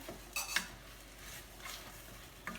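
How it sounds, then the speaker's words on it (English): Black bean soup ingredients stirred in a pot, a few faint spoon scrapes and soft clinks against the pot, quiet and close. "Give that a stir."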